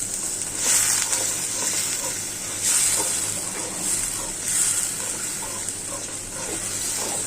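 Spice paste of ginger, garlic, turmeric, chili, green chili, onion and salt frying in a pan, giving a steady close sizzle and hiss with swelling bursts throughout, no voices.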